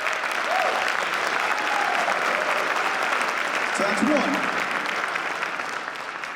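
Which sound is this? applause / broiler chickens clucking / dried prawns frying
applause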